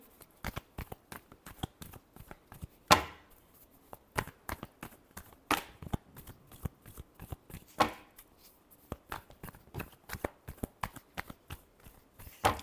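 Tarot cards shuffled by hand in a quick, dense run of crisp riffling clicks and flutters, with a few sharper snaps standing out, close and fairly quiet, no voices.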